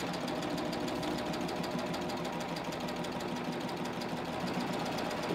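A Baby Lock Ovation serger stitches around a circular piece with a curved foot, its steady whirring machine hum running continuously and evenly at close range with no talking.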